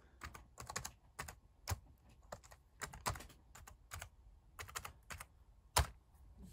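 A password being typed on a computer keyboard while repairing a 2009 13-inch MacBook Pro: a run of quick, irregular key clicks, close and fairly soft, with a sharper press near the end and no talking.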